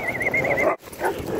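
A male Siberian husky scuffles, giving off a high whining, squealing cry followed by a sharp break and rougher yelping noises, close and loud.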